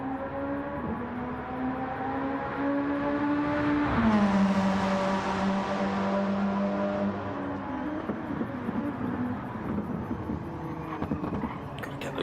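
A Gr3 race car in a sim racing series at Monza drives away from the line, its engine note climbing steadily, dropping at a gear change, then building again, loud and close with a whirring tone and no talk.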